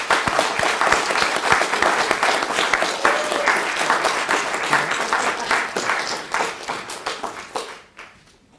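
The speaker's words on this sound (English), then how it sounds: "I think it's an opportunity to say a round of applause" A crowd applauds steadily for several seconds, dense clapping that stays loud before tapering off abruptly at the end.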